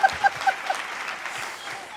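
Audience at a Hindi poetry recitation event applauding, a short burst of clapping that starts with a few sharp claps and settles into a steady patter.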